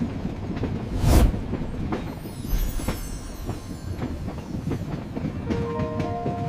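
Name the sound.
train running into a yard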